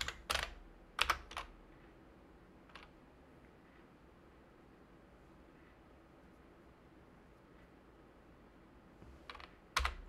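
Keys clatter on a computer keyboard as a terminal command is typed on Ubuntu: quick bursts of clicks at the start, then a long quiet pause, then a few more keystrokes at the end.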